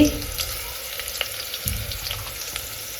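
Mustard seeds and cumin frying in hot oil give a steady close sizzle with faint scattered pops, running alone without talk.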